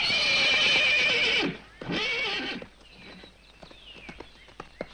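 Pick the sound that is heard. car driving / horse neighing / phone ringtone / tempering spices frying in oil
horse neighing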